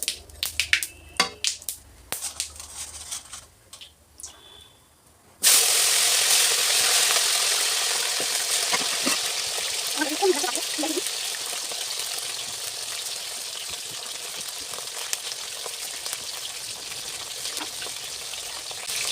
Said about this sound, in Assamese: এতিয়া ঔটেঙা দিম ঔটেঙা ভাজিম